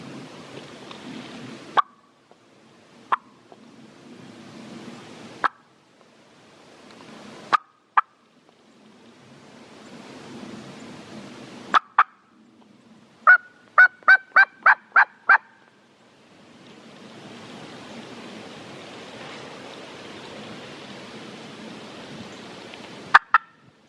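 Wild turkey gobbling far off in open country during spring morel foraging, a run of about six quick rattling gobbles in the middle, with sharper single calls scattered before and a broad soft rush of wind or movement after.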